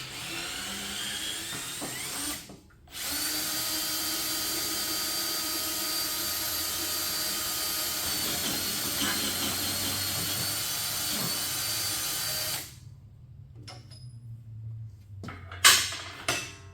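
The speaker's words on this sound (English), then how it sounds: "now we'll see if a drill can do it" A high-pitched electric drill loosening bolts on a steel plate rolling machine whines steadily under load in low gear for about ten seconds, stops, then gives a few short bursts near the end.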